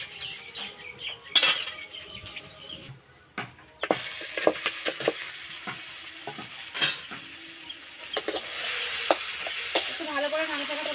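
Semolina batter with curry leaves, turmeric and sugar is stirred in a pan. A utensil clinks and scrapes against the metal in irregular strokes, with soft sizzling building underneath, close and fairly quiet.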